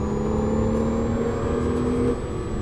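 Porsche Cayman S at full throttle on a track, a loud, steady engine drone with a sustained tone holding for about two seconds before easing slightly, heard up close.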